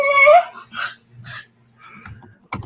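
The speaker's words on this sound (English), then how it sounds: "your dog is trying to talk" A dog whines and yips in short, rising cries that stretch toward a howl, close to the microphone, with pauses between the bursts of vocalizing.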